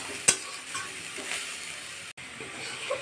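Grated coconut and jaggery frying in a pan give a soft, steady sizzle with scraping stirs and one sharp clack near the start, heard close and fairly quiet.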